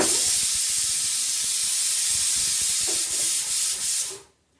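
A pressure cooker venting steam while cooking chicken stew with potatoes, a loud continuous hiss close by with faint thumps underneath, fading out abruptly at the end.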